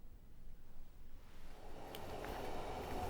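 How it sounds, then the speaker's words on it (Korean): A KTX high-speed train rolls into the platform at Wonju station, a low rumble building into a steady rushing roar of wheels and cars with a faint high squeal near the end. "KTX 열차가 1시간도 안 돼 원주역 승강장으로 들어옵니다."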